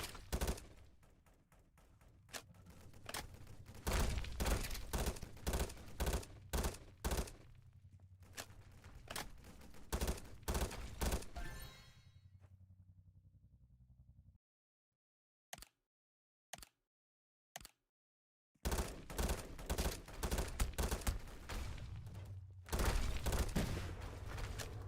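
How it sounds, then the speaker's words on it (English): Rapid bursts of video-game gunfire sound close and loud, dense volleys that break off into silence with a few isolated shots before resuming heavily, with no talking. "so I'm just gonna shoot my bullets"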